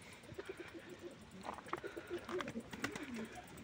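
Pet pigeons or doves give soft, low cooing calls at close range, faint and broken into short phrases, with a little background rustle.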